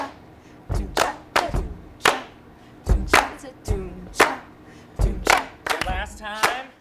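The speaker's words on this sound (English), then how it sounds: "Now the low sounds are feet and the high sounds are claps." A group stomps feet and claps hands in a steady alternating rhythm, low thuds followed by sharp claps, close and loud with no talking over it.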